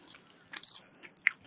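Soft, close bites and chewing on a rice ball, a few faint crunchy mouthfuls spaced apart in a quiet room.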